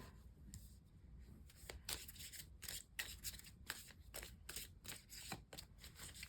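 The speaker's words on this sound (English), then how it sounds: "Bit of a messy shuffle there." Tarot cards being shuffled by hand in a loose, uneven way, a run of crisp papery riffles and slaps at close range with no talking.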